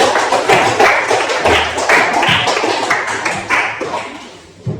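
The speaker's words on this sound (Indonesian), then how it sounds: "mari kita berikan tepuk tangan untuk kelompok 3 ya" Classmates in a classroom clap for a student group, a loud, dense patter of many hands sustained for several seconds before tapering off near the end.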